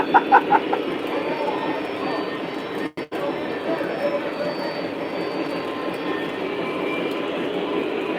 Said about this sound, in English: You guys know we're running 3 trains on a single track